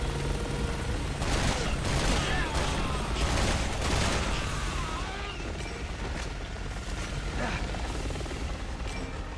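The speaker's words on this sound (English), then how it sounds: "so the objective is shoot down the helicopter" A helicopter in the Resident Evil 6 video game churns loudly amid a dense barrage of gunfire and explosions, the rotor noise mixed into sustained combat sound throughout.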